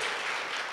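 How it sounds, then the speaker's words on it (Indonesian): Audience at an indoor workshop event applauding a speaker, a steady dense wash of many hands clapping that holds at an even level throughout the short stretch. "Sekali lagi teman-teman kasih tepuk tangan buat Kak Karin"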